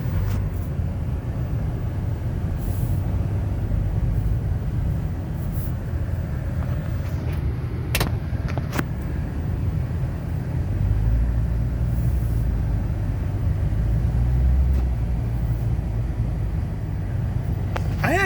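A car engine idling on a cold morning, a steady low rumble throughout with a few faint clicks and a slight swell in the bass toward the end.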